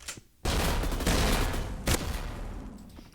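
Two sawed-off shotgun blasts from a video game, each a loud, broad boom followed by a long decaying tail, the second about a second and a half after the first, with no talk.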